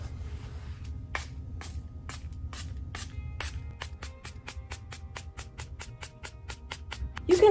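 A small plastic spritzer bottle sprays sealer over a paint inlay, a run of crisp pumps that begins slowly and speeds into a quick, steady series of short hisses, close and fairly quiet.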